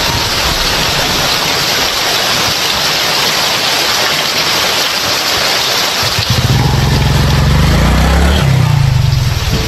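A motorcycle engine runs through a horror story, first buried in broad roaring noise, then after a few seconds a low, steady motor drone comes clear under the rushing wash.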